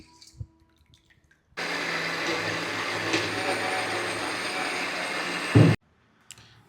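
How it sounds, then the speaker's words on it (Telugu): A kitchen mixie grinder runs steadily for about four seconds, grinding uttapam batter, with a dense, even whirring roar that stops abruptly after a brief louder clunk. Near and loud, with quiet room sound before and after. "ఇప్పుడైతే పిండి మిక్సీ పట్టుకున్నామండి"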